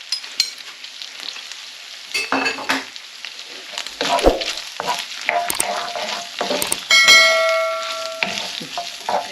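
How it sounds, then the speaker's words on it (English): Garlic sizzling in a frying pan with chicken and bacon for a pasta bake, irregular crackles and spits plus clinks of a utensil stirring against the pan, close and fairly loud. "it's time now for the garlic to go in. I'm just going to push that straight through and give that a minute or so in there"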